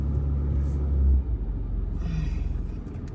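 A Ford Ranger engine accelerates off-road on a track, giving a loud, steady low rumble that swells briefly, dips, then holds with a pulsing throb.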